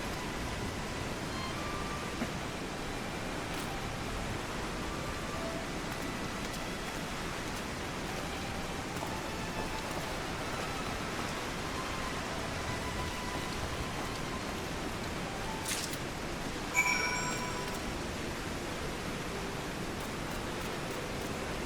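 Steady rain falls in Final Fantasy XIV Heavensward, a constant even hiss of drops spread across the whole scene, with a brief sharp chime-like effect near the end.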